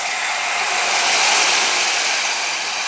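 Water pours into hot fried semolina in a pan for halwa, giving a loud, steady, continuous hissing rush that holds level for the whole span with no talk.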